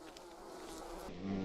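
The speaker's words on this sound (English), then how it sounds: "This looks like bees." Bees buzz steadily in the survival video game Green Hell, a continuous droning hum that swells slightly louder toward the end, with no talk over it.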